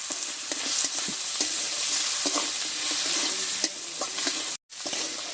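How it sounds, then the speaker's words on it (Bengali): Crab fries in a pan with salt and turmeric, a steady loud sizzle with intermittent scraping and clicking from stirring, broken by a brief dropout near the end. "লবণ আর হলুদ দিয়ে হালকা করে কাঁকড়াটা ভেজে নিলাম"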